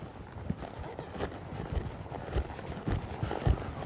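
Horse loping a circle to the left in a riding arena, hoofbeats thudding in a steady three-beat rhythm against steady background noise, a few louder footfalls standing out.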